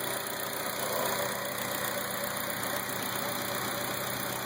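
A 2002 Acura RSX Type-S engine with polyurethane aftermarket motor mounts idles smoothly and steadily, a close, even hum with a faint whine and no speech.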